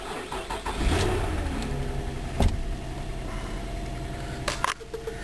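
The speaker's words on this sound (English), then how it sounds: "Let's start it up." A 2003 Nissan Maxima with about 95,000 miles starts up, the engine catching and settling into a steady idle with a slight rev, plus a couple of sharp clicks or knocks close by.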